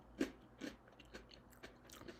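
Someone biting and chewing crunchy candy close to the mic, a few sharp crunches followed by softer chewing crackles, alone with no talk.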